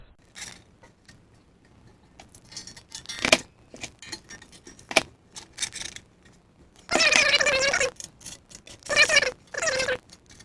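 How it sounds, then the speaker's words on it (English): Tin sheet metal being bent 90 degrees in steps with a hand tool while prepping a firestop enclosure for a John Deere 9770 combine: scattered metallic clinks and scrapes, then louder rasping, rattling bursts near the end. "this long one here is going to go down 90 degrees. And that appears to be cut through, so it should bend. I'm going to bend it in a couple of steps with this."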